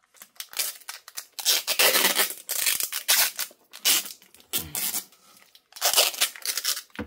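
Packing tape is pulled off the roll and wound around a hose in a homemade flamethrower build, giving loud, close screeching rips in several bursts separated by brief pauses.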